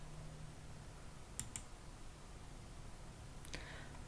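The Enter key on a computer keyboard gets pressed, a couple of sharp close clicks in quick succession and then one more isolated click against quiet room background.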